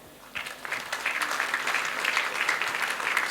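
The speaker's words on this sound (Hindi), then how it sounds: "उनको हम धन्यवाद देते हैं तालियों के साथ।" Applause from an audience at a Maha Shivratri Shiv Abhishek and Charan Puja event, starting after a short pause and building into steady, even clapping throughout.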